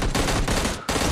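Rapid gunfire in PUBG Mobile Lite, loud and dense, rattling in continuous bursts with a brief dip near the end before the shooting resumes.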